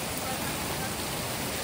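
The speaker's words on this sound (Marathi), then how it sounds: "बघा वीज पण जाम चमकते आज पाऊस आहे." Steady rain falls during a storm with lightning, a close, even hiss of water filling the whole brief moment without a break.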